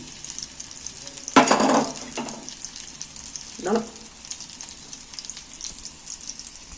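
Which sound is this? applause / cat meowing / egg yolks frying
egg yolks frying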